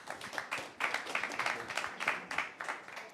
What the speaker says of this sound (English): So we can all give them a warm applause for this fireside chat.